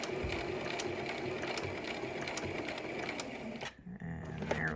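A sewing machine stitches along the side of a cable tie reinforced face mask, a steady mechanical whirring and ratcheting running continuously, broken by a brief pause near the end before the machine resumes.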